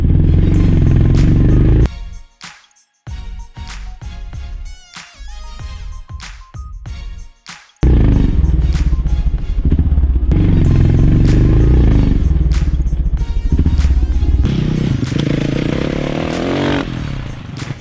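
Dirt bike engine revving hard while being ridden, a loud close roar that drops out briefly into choppy throttle blips before surging back to a sustained rasping drone.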